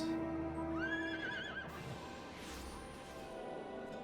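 A horse mount in the video game Final Fantasy XIV gives one clear, rising neigh up close, followed by a heavy crash-like thud and a steady rushing background.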